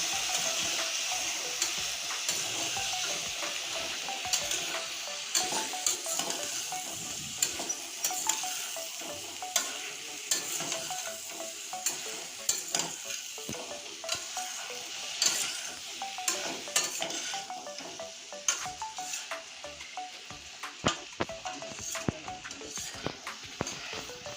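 Mixed vegetables with coriander powder are stirred in a pan, a spoon scraping and clacking in an irregular rhythm over a soft continuous sizzle, close and fairly quiet.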